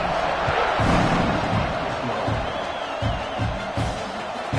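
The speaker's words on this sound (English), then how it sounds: "this crowd is buzzing after that last score" A stadium crowd in an NCAA football video game keeps up a loud, steady buzz of cheering and murmur throughout, with faint thuds and a commentator's voice under the noise.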